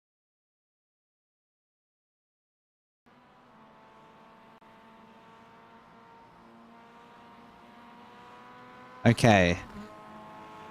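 A GT3 race car's engine in the iRacing sim at Spa comes in after a silent start, droning at a steady mid-level whine, then flares briefly into a sharp loud rev or squeal near the end; a voice speaks a short word.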